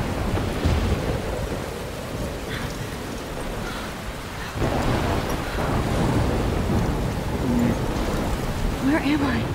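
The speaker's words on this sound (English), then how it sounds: "Giant raindrops right there." Heavy rain and a thunderstorm in the video game Life Is Strange, a dense steady downpour hiss with low rumbling thunder, loud and continuous, with a person talking over it.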